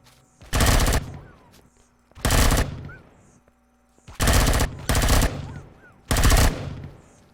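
Bursts of rapid automatic gunfire in the sci-fi survival game Empyrion Galactic Survival, five loud volleys of about half a second each, separated by short pauses.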